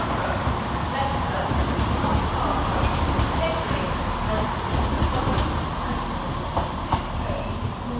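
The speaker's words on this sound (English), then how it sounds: "Next out to depart is 170-103 with the 1507 cross-country service to Gloucester" A Class 170 cross-country train pulls out of Nottingham station, a loud continuous rumble and rail noise filling the clip, with faint clicks from the wheels.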